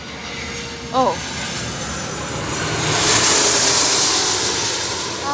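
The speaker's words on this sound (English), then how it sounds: "Oh my god, look at that plane!" An airplane passes at LAX airport, its engine roar swelling to a loud, broad rush before easing off slightly. A short exclamation and a brief tonal whine come early on.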